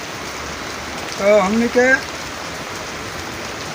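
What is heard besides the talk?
rain falling in Delhi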